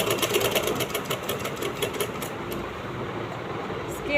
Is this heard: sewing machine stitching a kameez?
yes